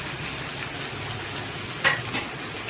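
Onions sauté in a pan for Vinayagar Chathurthi prasadam, giving a steady close hiss of frying. A couple of brief scrapes and clinks are heard as they are stirred, and no one speaks.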